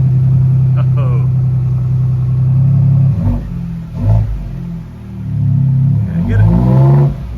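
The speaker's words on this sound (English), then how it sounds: "So this is me talking while it's revving up." A 2023 Ford Bronco Badlands with an AWE exhaust rumbles loudly at close range, rising and falling through several revs over a low idle, while someone talks over the engine.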